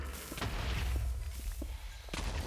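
Loud, dense explosions in Minecraft with the Tekkit modpack, heavy low rumbling booms and a few sharp cracks, continuous throughout, no talking.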